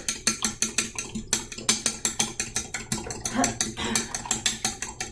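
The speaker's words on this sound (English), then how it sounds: "I whisk eggs with a fork" Eggs whisked with a fork in a bowl make fast rhythmic tapping and clicking strokes, about four per second, steady and close, with no talk over them.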